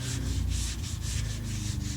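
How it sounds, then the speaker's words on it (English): A sanding block rasps back and forth over a plasterboard wall around a patched hole, making rhythmic, close scuffing strokes of roughly even pace that continue throughout, with no talking. "I just like to take my sanding block, just scuff up those"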